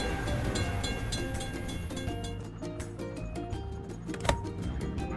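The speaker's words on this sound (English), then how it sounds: "We have to wait for the train to pass." A video-game train rumbles past a closed crossing gate, a steady rolling clatter with repeated rhythmic clicks of wheels over rail joints, moderately loud and continuous with no speech.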